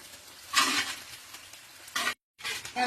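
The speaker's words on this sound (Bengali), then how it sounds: "পেঁয়াজটা একটু ভাজা ভাজা করে নেব।" Onions frying in hot oil crackle in short, sizzling bursts that surge and fade, with a brief gap near the end.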